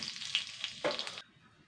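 Cumin seeds and a dried chilli crackle as they temper in hot oil, a bright close sizzle with small pops that cuts off abruptly, leaving near silence.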